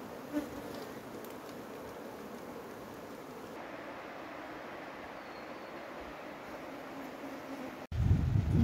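Honey bees swarm around an opened hive during honey harvesting, with a steady, dense insect buzz that stays constant throughout, then a sudden louder low rumble near the end.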